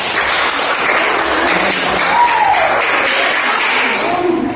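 Students in a classroom give a loud, dense burst of clapping that fills the room at a constant level for several seconds, with a faint voice surfacing briefly beneath it.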